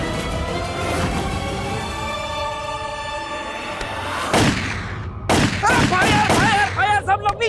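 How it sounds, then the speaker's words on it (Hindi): A barrage of gunfire in a Hindi TV drama scene: sharp bursts of shots ring out over background music, with loud rapid cracks clustering toward the end. "गोलियों की बौछार हो रही है।"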